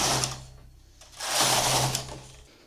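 A knitting machine carriage runs across the needle bed knitting two rows of inlay, giving a steady mechanical whirring clatter in two close passes, loud and alone with no talk.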